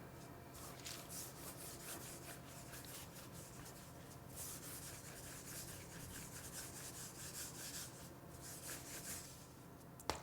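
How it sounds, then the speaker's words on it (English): Soft, steady rubbing and rolling of pretzel dough by hand on a work surface, close and quiet, with faint repeated brushing strokes and no talking. "When you keep rolling it out, just make sure you do an even taper from the bulge out to the ends"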